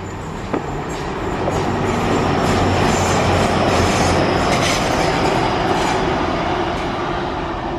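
A loud train rolls steadily past up close, a constant roar with rattling wheels and faint high squeals, no talking over it.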